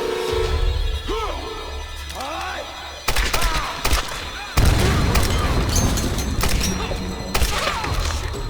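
Machine gun fire in Tomb Raider (2013) comes as loud, rapid bursts of booming, thudding shots, with heavy impacts after about three seconds and again near the middle, mixed with shouted voices and battle noise.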